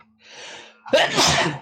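A single close sneeze, led by a soft rising inhale and ending in a sharp, loud burst.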